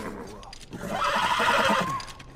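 A horse neighs in The Last of Us video game, a drawn-out whinny rising and falling over about a second, close and fairly loud, with faint background game sounds around it.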